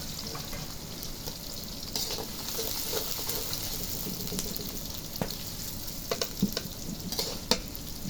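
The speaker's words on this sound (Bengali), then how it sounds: "পেঁয়াজের কুচি দিয়ে দিচ্ছি, 4-5টি পেঁয়াজের কুচি কেটে নিয়েছিলাম, এবং কিছুক্ষণ নাড়াচাড়া দিয়ে এটা বাদামি কালার করে নেব" Chopped onions, four or five of them, fry and sizzle in a pan over a clay stove while being stirred, a steady hiss with scattered scraping clicks and occasional louder taps of the spoon.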